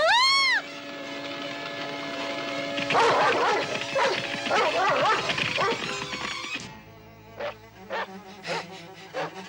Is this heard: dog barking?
yes